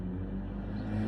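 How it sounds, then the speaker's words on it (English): A car speeds past outdoors with a fast whooshing engine rush and a steady, fairly loud roar that carries through the brief moment. "You hear that car really fast?"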